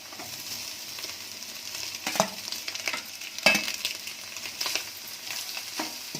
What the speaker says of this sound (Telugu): ఇవన్నీ బాగా మిక్స్ చేసుకోవాలి.